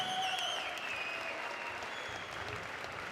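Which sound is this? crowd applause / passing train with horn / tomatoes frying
crowd applause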